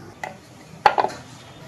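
A lid set onto a steamer pot, heard as a short metallic clatter and two quick knocks against a quiet kitchen background, with a lighter tap just before.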